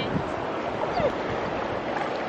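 Clear water rushes past and flows steadily downhill, a close, continuous broadband wash with no pauses across the short stretch.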